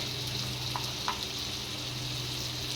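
Ground spices with cumin powder and garlic paste fry in oil in a pan for dhaba-style chicken kosha, a soft steady sizzle close by with a couple of faint stirring taps.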